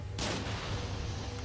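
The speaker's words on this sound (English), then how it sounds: "Now watch out for the skeleton cannon." A skeleton cannon fires in a video game, a single booming blast that erupts sharply and then rumbles on as a heavy, sustained roar until the end.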